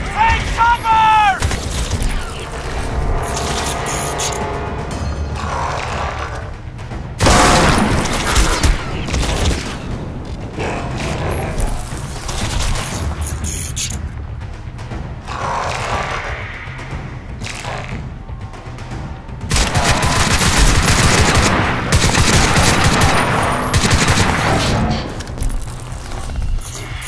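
Heavy battlefield gunfire in Crysis 2, bursts of rifle and machine-gun fire with booms and shattering, loud and continuous across the scene, with shouted voices mixed in.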